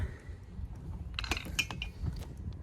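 A greased Load 'N' Go tool box jack mechanism spins, giving a quick run of close metallic clicks and ratcheting gear chatter that rises briefly in the middle over a low background rumble.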